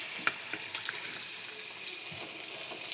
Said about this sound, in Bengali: সব একসাথে ভাজা ভাজা হয়ে যাক।